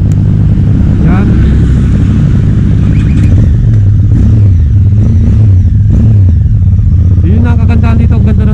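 A 2024 QJ Motor SRT 600 motorcycle engine idling and revving, a loud close rumble that rises and falls, with someone talking over it.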